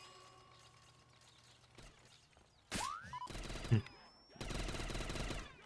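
A weapon fires in the Call of Duty Zombies game, heard as loud mechanical gunfire and clattering bursts after a quieter stretch, with one sharp whooshing effect in between.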